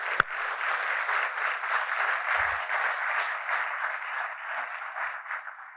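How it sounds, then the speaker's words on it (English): A conference audience breaks into steady, sustained applause that fills the room at a moderate level and fades slightly toward the end. "I just want to give you guys a round of applause"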